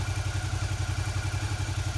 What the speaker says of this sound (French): Je démarre la moto.